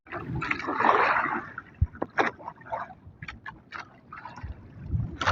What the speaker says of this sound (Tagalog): Ang lalaki ng alon guys.